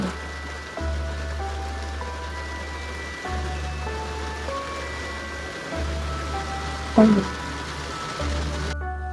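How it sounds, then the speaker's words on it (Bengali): Steady rain falling, a dense hiss throughout, with a low engine-like hum underneath and a brief louder clatter near the end. "বর্ষার মেঘ না, উড়ো মেঘে বৃষ্টি তো।"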